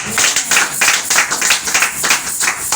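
A church congregation claps in rhythm to acclaim the word of the Lord, loud close hand claps falling in a steady repeated beat for nearly three seconds.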